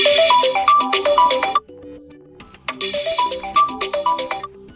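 A TCL 20 L phone plays a bright electronic ringtone melody loudly, pauses briefly, then repeats the same tinkling pattern.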